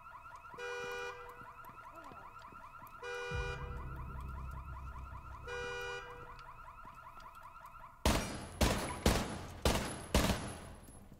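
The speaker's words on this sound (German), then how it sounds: "hier hupt das Auto permanent" A car alarm in the video game Rainbow Six Siege cycles through its looping electronic wail, then a rapid series of sharp, loud gunshots bursts out near the end.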